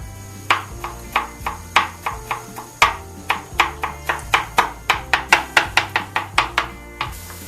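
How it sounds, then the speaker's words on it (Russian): A knife chops garlic finely on a board in a steady run of about twenty sharp, close taps that speed up toward the end, with a faint background hum underneath. "Меленько нарезаю чеснок."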